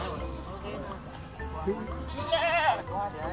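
Goats at a livestock setting in Cebu bleat a few times, a wavering cry rising clearly near the end, mixed in with people talking nearby.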